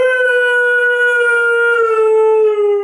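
A Siberian Husky puppy gives one long, loud, close howl that sits on a clear, wavering pitch and slides slightly downward, with nothing else heard.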